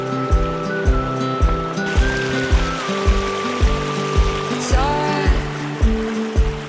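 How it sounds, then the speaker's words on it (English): Creek water rushes steadily at a hiking crossing of Indian Creek on an Ozark Trail backpacking route along the Current River, a continuous close flowing wash with no talk. "Indian Creek crossing number 2."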